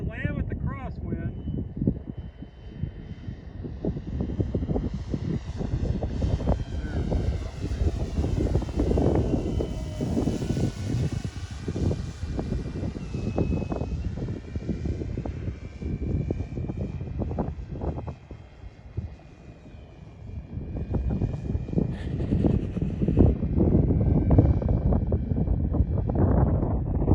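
A VQ/Nexa 107-inch Pilatus PC-6 Turbo Porter RC model plane comes in to land in a crosswind, its engine droning steadily under heavy buffeting wind noise on the microphone.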